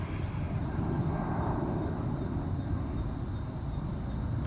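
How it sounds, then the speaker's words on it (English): Airplanes fly overhead during an outdoor community vinyasa yoga class, a continuous broadband engine roar holding steady and fairly loud throughout with no speech over it. "just like the sound of the planes, use your breath to let it go."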